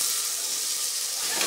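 Chopped onions dropped into hot oil with popped mustard seeds and cumin, sizzling and frying in a loud, steady hiss close up, with no voices.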